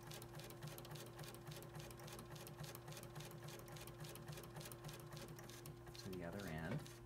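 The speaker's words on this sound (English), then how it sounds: "So really short stitch for about a half inch, then go back to your default stitch." Sewing machine running fast, short stitches on a trouser welt pocket, a close steady rapid chatter with a constant motor hum, and a voice speaking over it near the end.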